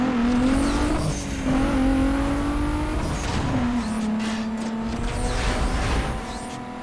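A Toyota Supra GR races in a video game, its engine droning steadily and rising in pitch through several gear changes, loud and continuous, with faint tire noise and no talk.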